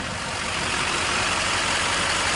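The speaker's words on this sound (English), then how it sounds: "we'll let it run here a while" A Duramax diesel truck engine idling while being checked for a suspected bad head gasket, a loud, steady, unbroken rumble with broadband roar and no voices.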